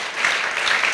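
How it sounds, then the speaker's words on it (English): Applause from an audience at a multiplication competition award ceremony in Africa: a steady wash of many hands clapping, moderately loud and continuous for a second with no talk over it. "Can we clap for him, please?"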